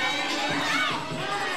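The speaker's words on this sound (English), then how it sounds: "Crowd going wild." A crowd at a New Heights Wrestling anniversary show cheering after a victory, loud sustained shouting and whooping from a packed room, with some voices rising above the din.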